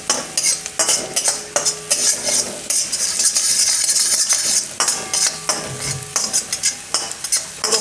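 Garlic sizzles in a hot pan while a utensil stirs and scrapes it, giving a steady frying hiss broken by repeated, close, rhythmic metallic clinks and scrapes, with no talking.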